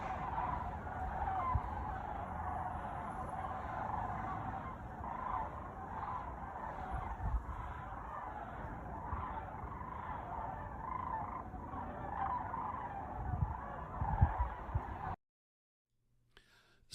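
A flock of sandhill cranes flies overhead, giving dense, overlapping rattling bugle calls that carry steadily across a distant sky for about fifteen seconds before cutting off abruptly.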